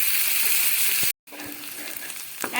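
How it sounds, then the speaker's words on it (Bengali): Chopped onion dropped into hot oil for an egg poach gravy, a loud steady sizzle and hiss cut by a brief silence, then a softer continuous frying crackle with faint stirring. "এবার দিয়ে দিচ্ছি এর মধ্যে কেটে রাখা পেঁয়াজ।"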